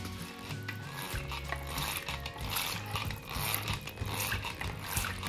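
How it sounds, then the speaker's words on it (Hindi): Yogurt being whisked in a bowl with powdered sugar and a pinch of salt: steady, close scraping and clicking of the whisk against the bowl, continuous and fairly quiet. "इसमें डालेंगे अपनी पिसी हुई चीनी पाउडर, शुगर लगभग 2 चम्मच, स्वाद अनुसार थोड़ा सा नमक भी डालेंगे और इसको विस्क करेंगे दही को"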